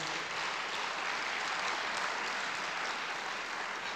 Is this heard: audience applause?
yes